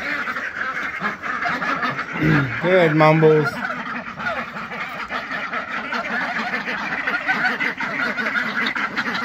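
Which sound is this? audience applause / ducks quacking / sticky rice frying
ducks quacking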